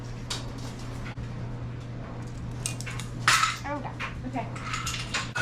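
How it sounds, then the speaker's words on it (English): New metal measuring spoons clink and rattle in a kitchen in several short bright clatters over a steady hum, with a person briefly speaking in between. "New measuring spoons"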